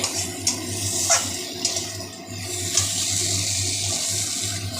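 Water poured into a pot of boiled potatoes, a steady splashing pour with a low hum beneath and a few small clinks scattered across it.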